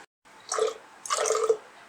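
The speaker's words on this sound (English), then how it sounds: "now I'm going to measure like 100 ml of color developer and pour into this second tray" Color developer, about 100 ml, poured into a second processing tray for RA-4 reversal printing, giving two short splashing, dripping bursts of liquid that sound close and fairly quiet, with no talk.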